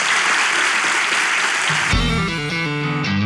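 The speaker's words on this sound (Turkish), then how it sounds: "Tamam, kocaman alkış buraya." Studio audience applause on a relationship-quiz show, dense clapping for under two seconds before a loud musical sting takes over.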